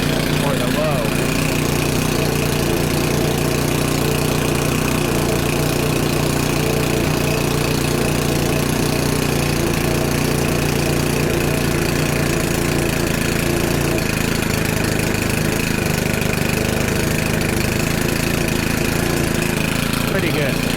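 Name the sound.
Stihl chainsaw engine idling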